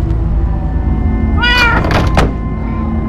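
Cat meowing in the Minecraft: Story Mode video game, a single drawn-out meow in the middle of a loud, low steady hum, followed by a sharp thump.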